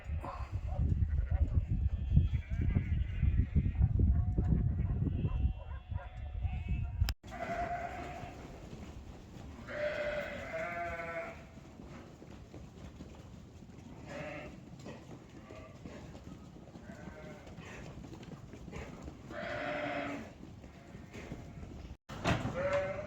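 A flock of ewes being gathered for weighing before going onto maize bleats repeatedly, with loud overlapping calls and steady shuffling movement, plus a heavy low rumble at the start.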